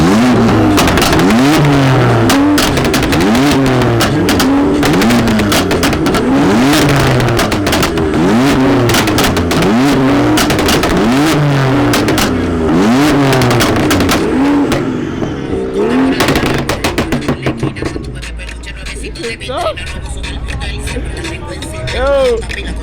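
Tuned BMW 340i revving hard at a JDM car meet, exhaust popping and crackling as it shoots flames; loud, close, repeated rev bursts for most of the stretch, then quieter idle with crowd chatter and voices over it.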